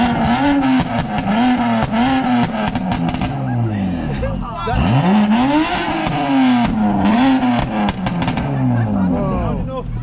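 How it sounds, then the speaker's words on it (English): Modified car engine at a school car show revs hard and loud in repeated rising and falling bursts, roaring close by, with people shouting and talking over it. "The kids have really enjoyed the cars, the loud noises."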